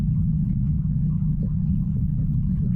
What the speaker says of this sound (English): The wind is quite noisy.